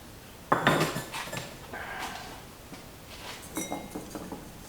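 Bisque-fired ceramic tea bowls with white slip clink and knock together as they are handled during a kiln unpack, with a sharp clatter early on, then a few lighter taps and scrapes near the end.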